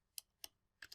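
Three quick, crisp keystrokes on a computer keyboard, close and isolated, with the last pair landing almost together; no speech.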